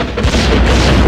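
Ship cannons fire in the PlayStation 2 game Swashbucklers, a loud, close, heavy rumbling boom that fills the moment with dense low-end blast noise.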